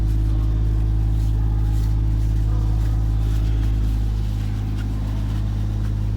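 Honda PCX 125 scooter from 2021 running close by with a steady, loud low engine drone, easing slightly lower toward the end; no talking.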